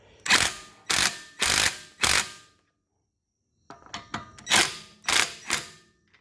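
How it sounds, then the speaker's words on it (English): Pneumatic impact gun driving a torque stick to snug wheel lug nuts on a Golf R, four loud close rattling bursts, a short pause, then several quick taps and three more bursts. "So all I do is I put it on my impact gun, put that in on there."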